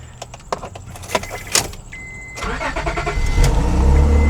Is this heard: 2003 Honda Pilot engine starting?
yes